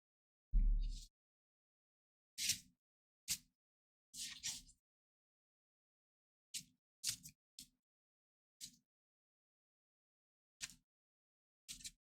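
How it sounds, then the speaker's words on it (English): Several crisp, papery flicks and snaps of trading cards being shuffled and riffled come in irregular bursts with silent gaps, close and quiet. "Just some shuffling sounds."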